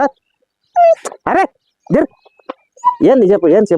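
Dogs whimpering, yipping and giving short barks close by, in bursts with gaps between, while someone talks over them.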